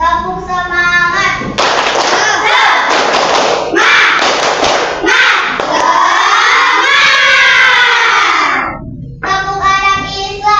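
Classroom children at an Islamic school performing a rhythmic clap chant, shouting and singing together with sharp group claps and thumps, loud and close, with call-and-response voices.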